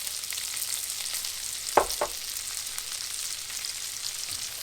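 Onions and garlic frying in a pan over lowered heat, a faint steady sizzle with a couple of brief utensil scrapes near the middle.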